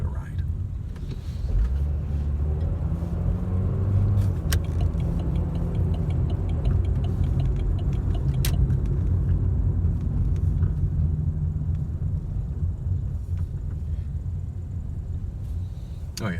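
A car cruising in traffic on the I-17 highway, with a steady loud rumble of engine and road noise throughout and a couple of brief clicks.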